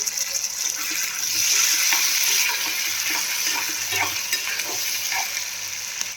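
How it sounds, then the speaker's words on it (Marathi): Boiled peanuts are stirred into onions frying in a pan, producing a loud, close, continuous sizzle with repeated scraping stir strokes throughout. No one talks. "आता आपण याच्यामध्ये बॉईल केलेले दाणे ॲड करून घेऊया पुन्हा त्याला मिक्स करूया"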